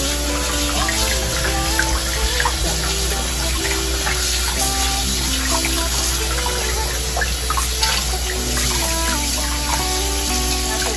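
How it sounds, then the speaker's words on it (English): Pork intestines and organs being washed under a running tap while preparing braised pork organs: a loud, continuous rush of water with steady splashing and no pauses. "Wash very good, especially the intestine."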